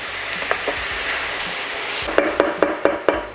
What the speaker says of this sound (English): So once the oil is hot, go in with your onion, your celery, carrots, and we call this the mirepoix.